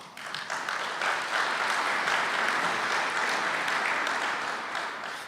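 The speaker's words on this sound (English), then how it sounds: "Gee, it's kind of nice to get an applause." An audience at a county government address claps steadily for several seconds, a dense wash of many hands applauding that tapers slightly at the end.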